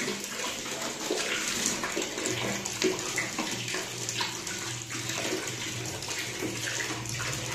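Hot water gushes steadily from the tap of a water geyser, a continuous close rush of running water that fills the whole stretch without pause.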